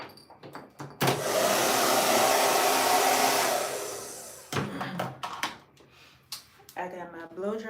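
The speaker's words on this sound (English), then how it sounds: "I got my blow dryer." A hair dryer blows with a steady whooshing roar for a few seconds, then shuts off as a person talks.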